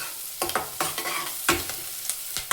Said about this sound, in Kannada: ಇವಾಗ ಈರುಳ್ಳಿ ಫ್ರೈ ಆಯಿತು.